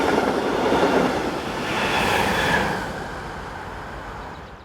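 A passenger train of Bombardier Dosto double-deck coaches with a Class 4000 electric locomotive runs from Rodange to Luxembourg City, passing close with a steady rumble and rail clatter that swells and eases slightly before fading.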